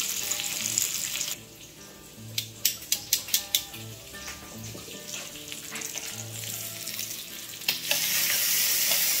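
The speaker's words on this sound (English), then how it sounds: "Bacon's gonna get a nice little crisp." Bacon crisping in a pan at home in the morning, a steady sizzle with a run of sharp utensil clicks and scrapes near the start, then a rushing wash of running water toward the end.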